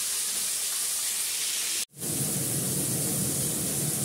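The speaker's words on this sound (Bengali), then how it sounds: "মাছটা ভেজে নিই, তাহলে দেখো।" Katla fish belly pieces fry in a pan with a loud, steady close sizzling hiss, broken once by a brief silent gap before the sizzle resumes.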